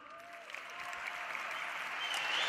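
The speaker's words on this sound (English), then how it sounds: "clap it up for the youngsters one more time." A large conference crowd at Web Summit 2016 claps for the youngsters, a dense, slightly distant wash of applause that swells gradually louder toward the end.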